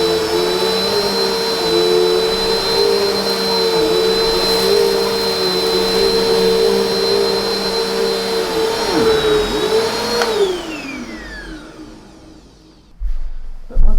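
A BISSELL CleanView Swivel Pet 2252 upright vacuum runs on carpet with a loud, steady motor whine and airflow roar, its pitch dipping briefly as it moves, then winding down and cutting off near the end.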